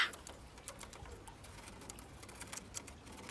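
Faint, scattered chirps and calls of small birds outdoors, brief high notes sprinkled over a soft background hiss, with no talking.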